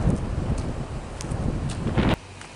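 Steady wind buffeting the microphone outdoors at a lakeside RV resort in Rockport, Texas, a loud continuous rumble with gusty swells that cuts off abruptly near the end.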